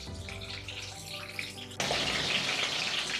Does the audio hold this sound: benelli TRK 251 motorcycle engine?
no